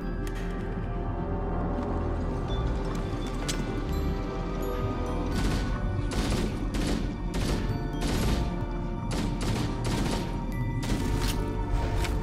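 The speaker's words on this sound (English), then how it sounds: "Jenkins, shoot your... gun." Gunfire in the Call of Duty video game fighting the Flood: dense, loud bursts of rapid shots and automatic fire crackle continuously, with heavier volleys clustered in the second half and no voices heard.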